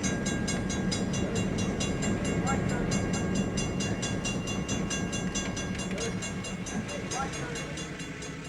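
Chicago interurban train 117, the Varsity, rumbles through snow as it slows for orders and turns off onto the Fox Lake branch, a loud continuous roar of wheels and motors with rhythmic clatter and squeal throughout.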